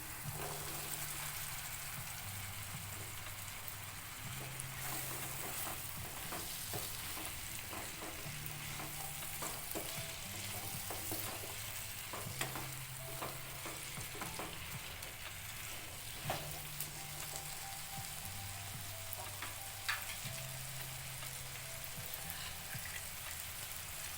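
Chopped round gourd fries with soaked dal over low heat in a pan, a steady soft sizzle broken by repeated scraping stirs of a spoon against the pan.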